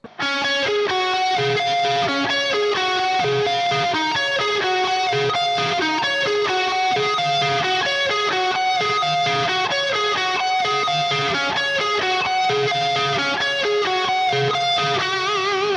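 A crunchy, overdriven electric guitar through amp crunch plays a steady run of notes and chords, bathed in reverb with echoing delay trails, loud and continuous.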